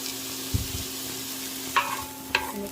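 Onion and garlic frying in hot oil for a chicken curry, a steady low sizzle with a few sharp clatters and stirring knocks scattered through it, close by and with no talk.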